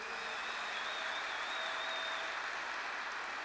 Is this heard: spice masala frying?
no